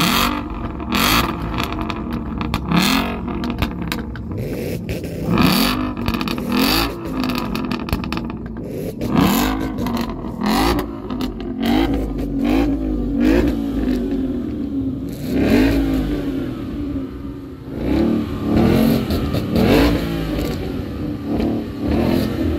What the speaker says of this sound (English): we're surrounded by revving V8s